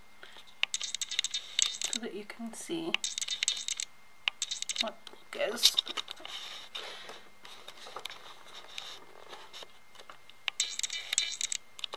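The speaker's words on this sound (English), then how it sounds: "that clicking sound that you hear when I'm zooming in and out" A faulty camera lens clicking and rattling as it zooms in and out, bursts of rapid mechanical ticking in short runs, heard alongside someone speaking.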